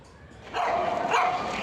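Dogs bark and yip at a Bark in the Park baseball event at Chase Field, a busy chorus of barking close by over crowd murmur.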